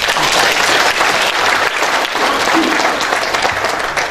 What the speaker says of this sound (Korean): 제 생각이 맞다고 공감하신다면 큰 박수로 한번.